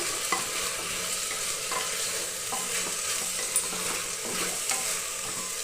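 Tomatoes frying in a pan for okra dal, with a steady close sizzle and repeated stirring scrapes in an even rhythm, no voices.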